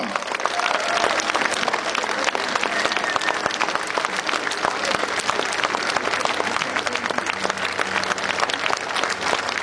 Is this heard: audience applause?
yes